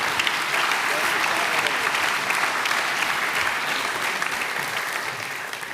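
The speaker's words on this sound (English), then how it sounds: "let's give them a round of applause" A conference audience at a G20 policy summit gives a round of applause, with steady, even clapping from a sizable crowd that slowly tapers off toward the end.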